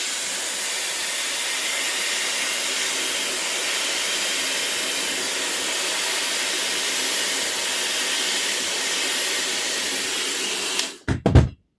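A Dreame Hair Glory hair dryer blows strongly through its brush attachment, a loud continuous rushing hiss that holds steady before cutting off abruptly with a few short clunks at the end.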